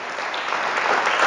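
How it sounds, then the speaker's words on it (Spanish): A church congregation at a ministry team training class breaks into loud, dense applause, a steady wash of many hands clapping that swells slightly toward the end. "Denle un fuerte aplauso."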